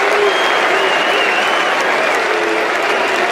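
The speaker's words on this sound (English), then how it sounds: "Listen to the applause for Nick Watson." A stadium crowd at an AFL match between Hawthorn and Essendon roars and applauds, a dense, continuous, loud wall of clapping and cheering with no individual voices standing out.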